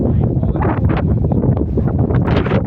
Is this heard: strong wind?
yes